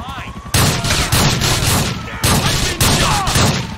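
Shotgun fire from the video game Grand Theft Auto 4, four or five loud booming blasts at irregular intervals amid a chaotic gunfight, with scattered gunfire and noise filling the gaps and no speech.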